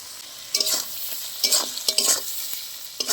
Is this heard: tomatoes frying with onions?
yes